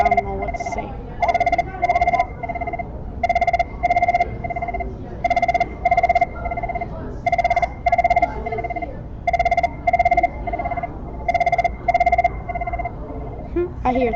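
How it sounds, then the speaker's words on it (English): A telephone rings in a repeated two-tone electronic pattern, bursts of rapid trills separated by short pauses, fairly loud and steady over a low background rumble with no talk. "The phone is ringing."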